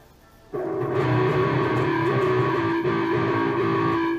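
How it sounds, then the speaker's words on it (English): A sustained distorted electric guitar chord with a wah pedal through a Line 6 Spider Valve MkII amplifier, loud and continuous after a short quiet start. "Wah pedal still engaged."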